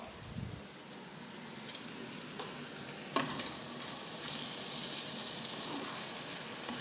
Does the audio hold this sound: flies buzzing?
no